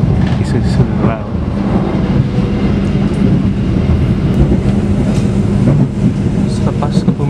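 An Argo Lawu express train runs on rails near Kebumen, Central Java, with a steady, loud rumble of wheels and carriage noise throughout and faint rhythmic clatter, heard from inside the moving train.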